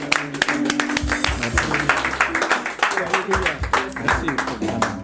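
A church congregation claps to acclaim the Lord during a French-language service, with dense, rapid applause running steadily throughout and voices rising beneath it.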